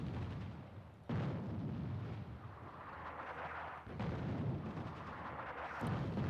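Artillery fire in the video game Attack At Dawn: North Africa: a few heavy booms land about a second or two apart, quite faint and distant, over a low rumbling background with no talk.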